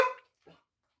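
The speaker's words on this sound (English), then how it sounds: "if you hear her bark, it's just the delivery guy getting my food" A dog barks at a delivery driver: one sharp, loud bark followed by a fainter, shorter yip or whimper, then silence.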